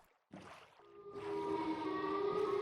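The Siren Head creature's siren from a horror video game, a loud sustained wailing siren tone that starts abruptly and swells steadily, alone with no voices.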